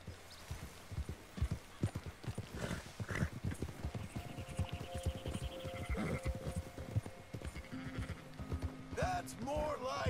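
Sheep bleating in the video game Red Dead Redemption 2, several wavering calls near the end over steady hoof clip-clop from a horse and mixed game ambience.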